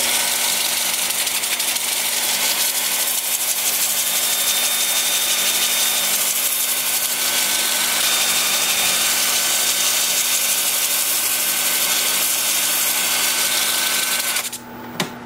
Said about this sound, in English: then with the lathe spinning in reverse at about 350